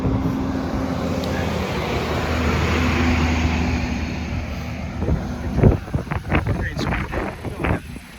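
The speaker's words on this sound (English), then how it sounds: "got a big truck coming here" A big truck rumbles past on a beach-side road, a steady engine drone building and fading, followed by gusty wind buffeting and clattering noises near the microphone.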